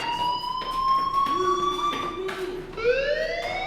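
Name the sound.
fire alarm ringing in Life is Strange video game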